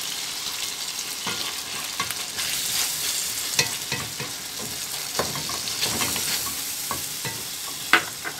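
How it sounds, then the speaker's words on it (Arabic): A spoon stirs chicken pastilla filling with harissa and lemon in a sizzling pan, giving a steady fry hiss broken by scraping strokes and soft knocks, with nobody talking. "نحركو الكل مزيان"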